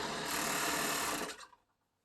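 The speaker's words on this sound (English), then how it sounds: "your serger pieces towards the pocket, and then serge down the leg." A serger running down the leg seam of a romper, a fast steady whir for over a second before winding down and stopping, close and fairly quiet.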